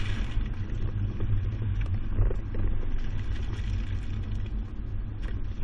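A 2020 Toyota RAV4 carrying a Kuat NV 2.0 bike rack drives a slalom course, giving a steady low road rumble and engine drone with light rattles, recorded close and without speech.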